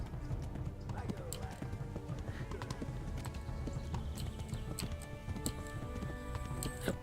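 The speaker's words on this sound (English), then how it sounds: "Run, horsey, run!" Rapid hoofbeats of a galloping horse in the video game Kingdom Come: Deliverance patter steadily throughout, with a voice talking over them and scattered clicks.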